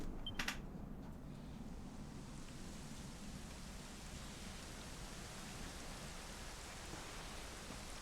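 Rain falling in Dragon Quest 11, a soft, steady hiss of light rainfall that stays faint and even throughout, with a brief chime-like blip near the start.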